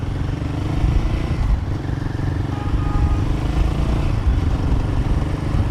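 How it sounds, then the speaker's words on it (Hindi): Steady Royal Enfield Himalayan 450 motorcycle engine drone with a continuous buzzing rattle from a loose part, close and fairly loud throughout. "कुछ तो इसमें कर कर कर कर कर कर आवाज़ आ रही है, पता नहीं क्या आवाज़ है।"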